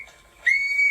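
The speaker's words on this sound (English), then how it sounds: "She grabs her rape whistle" A personal safety whistle is blown in one shrill, sustained, loud blast that starts abruptly after a faint, breathy lead-in.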